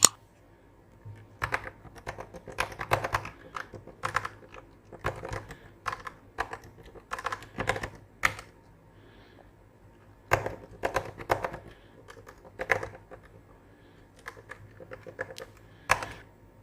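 A username and password are typed on a computer keyboard in irregular bursts of close, crisp key clicks, with short pauses between flurries and no voices.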